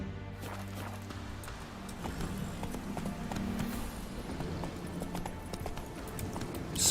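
Hooves of Roach, Geralt's horse in The Witcher 3, clop in a quick rhythmic beat over a layer of in-game ambience, steady and fairly close throughout.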